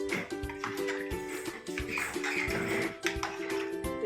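Water poured into a cooking pot of rice with mint and coriander for paneer matar pulao, a continuous splashing pour with a few clinks of the vessel, close up.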